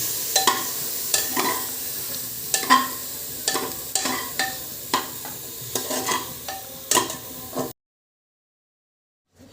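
Chopped cabbage, capsicum, carrot and peas frying in a pan under repeated stirring, with a series of sharp scraping strokes over a soft sizzle, close and steady, then cutting off abruptly into silence near the end.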